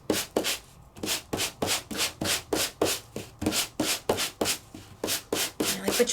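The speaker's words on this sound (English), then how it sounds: "And now we're going to give it a quick sand." Sandpaper rubbed briskly over cut-out paper stars for a scrapbook embossed folder, about fifteen steady back-and-forth strokes in a quick regular rhythm, close and clear with no talking.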